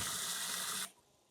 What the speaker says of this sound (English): we are filling up our super tub with water and finally got it almost there to the max line